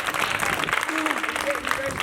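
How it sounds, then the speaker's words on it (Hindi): An audience at an education department exhibition in Delhi's Civil Lines zone claps for a 94-year-old woman who has won nine athletics medals. The sustained, dense applause runs for about two seconds while a voice speaks over it. "ताली बजाओ।"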